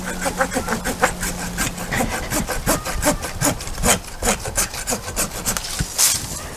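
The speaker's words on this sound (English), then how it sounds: "I'm making the cut at the branch collar so it has a better chance of healing over" A hand saw rasps steadily through a Japanese maple branch at the branch collar in quick back-and-forth strokes, close and continuous, with faint engine hum behind.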